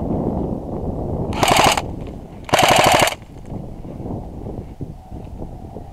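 Two rapid bursts of automatic gunfire from a war video game, each lasting about half a second with a brief gap between them, standing loud above a constant low rumble of background game ambience.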